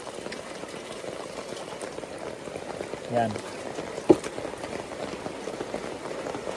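Steady rain falls on a livestock farm where a pregnant pig is kept, making an even hiss with a couple of sharp knocks, while someone talks over it.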